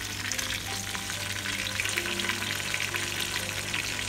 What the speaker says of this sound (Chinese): 冇理佢，聽佢自己煎